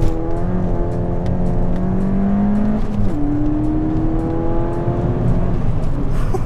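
A tuned stage 1 Ford Fiesta ST with an ITG induction kit accelerating hard from a standstill, engine note climbing steadily, dipping at a gearshift, then pulling again with loud induction roar close up and no talk.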